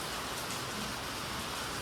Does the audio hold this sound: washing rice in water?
no